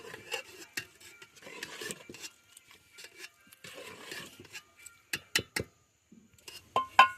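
Cooked rice being mixed by hand with chili powder and salt, producing soft intermittent rasping and rubbing strokes with pauses between, ending in a few sharper scrapes.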